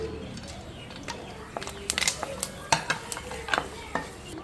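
Whole spices, cinnamon, cloves and cardamom, sizzle in hot oil for a vegetable pulao, with soft crackling and a series of sharp pops and spatters growing busier toward the end, close by.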